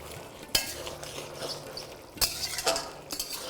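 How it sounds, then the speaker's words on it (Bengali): A spoon stirs ridge gourd with ginger and turmeric in a pan, making three sharp metallic clinks against the pan over a soft scraping sizzle, close by and with no talk. "তারপরে এটাকে ভালো করে মিশিয়ে নিচ্ছি।"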